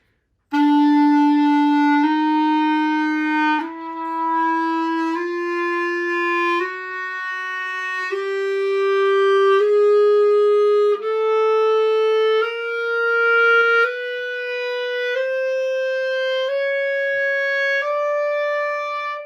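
A clarinet plays a slow, steady rising chromatic scale, each sustained note stepping up by a half step, clear and close with no talking.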